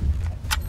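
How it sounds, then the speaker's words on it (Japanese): A single sharp click as the button on an electric moped's fold-down license plate cover is pressed, close and brief, over a low steady hum. "ボタンを押していただくとカチッという音がしまして"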